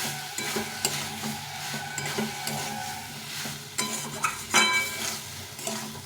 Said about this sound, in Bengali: এখন এর মধ্যে এই ফুলকপিটা দিয়ে দেব দিয়ে ভালো করে মশলার সঙ্গে কষিয়ে নেব